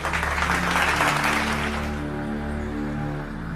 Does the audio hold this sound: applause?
yes